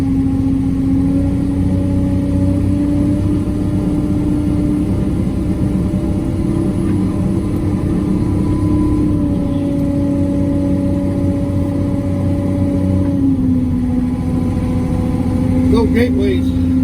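A heavy farm tractor engine drones continuously at close range in a field, its pitch shifting slightly as it works, with a faint voice under the noise.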